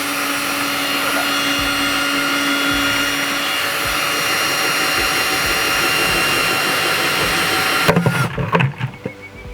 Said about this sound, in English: you put the drill bit on where you want to drill the hole